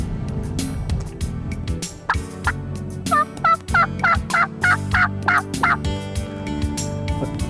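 Wild turkey gobblers in spring woods sound off in a quick run of loud, rattling gobbles, several close together near the middle, over steady background noise.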